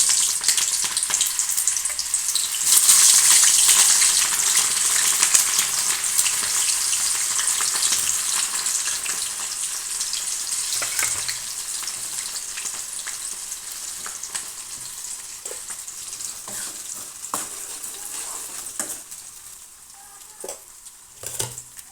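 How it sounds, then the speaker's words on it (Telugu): Onions and green chillies frying in oil in a kadai, a loud continuous sizzle that gradually eases, with occasional sharp ticks and scrapes of stirring near the end; no one speaks. "కడాయిలో ఆయిల్ వేసాను చూడండి. ఉల్లిపాయలు పచ్చిమిర్చి వేసుకున్నానండి ఇందులోకి."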